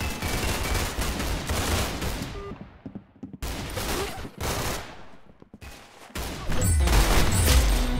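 Rapid gunfire bursts in the Roblox game Arsenal, dense automatic shooting broken by brief silent gaps, loud and close throughout the clip with no talking.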